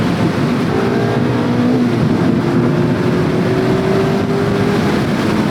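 Mazda Miata ND2 Club driving on a winding road, a steady loud engine drone with rising tonal harmonics as it pulls through the gears, heard alone with road and wind noise.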